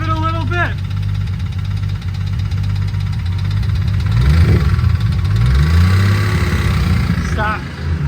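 A turbocharged BMW E46 engine in poor, failing condition revs in rising and falling sweeps over a steady rough idle, close and loud, with people talking over it.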